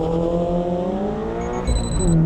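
A modified Subaru BRZ launches hard from a standing start on a race track, its engine note climbing steadily through the revs in a loud, close, continuous pull with rising harmonics, shifting near the end.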